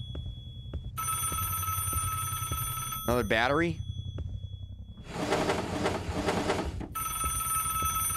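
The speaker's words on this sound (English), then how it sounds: "Dude, I hear the phone." An electronic phone rings loudly in a video game, its bright repeating trill sounding in bursts over a constant low rumble, with a short spoken line and a brief warbling game sound in between.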